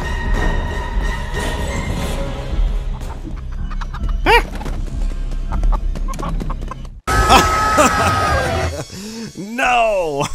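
Giant chicken in a video game clucking and squawking over busy game music and effects, with rising and falling calls near the end, loud and close.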